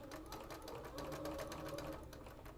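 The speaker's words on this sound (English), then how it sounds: "And you're going to sew on that diagonal line." A sewing machine runs steadily close by, its needle chattering in a fast even rhythm as it stitches a quilt border along a diagonal line, with no talk over it.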